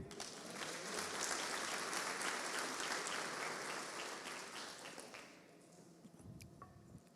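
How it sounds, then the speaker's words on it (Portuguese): Church congregation applauding during a sermon, a sustained wash of clapping that swells and then fades out over several seconds, moderately distant. "Vamos aplaudi-lo?"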